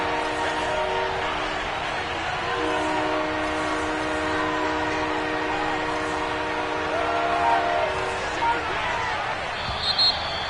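A referee's whistle sounds in an PS5 American football video game, sustained shrill tones over a constant crowd and broadcast-style background, with commentary talk running underneath.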